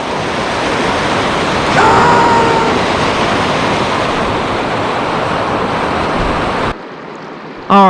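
Water pours steadily over a creek spillway, making a loud, close, continuous rushing roar with no voices, until it cuts off sharply near the end.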